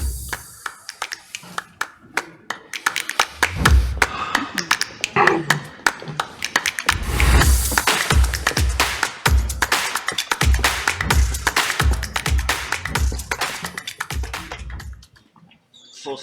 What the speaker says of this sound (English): I'm welcome them to the stage with your applause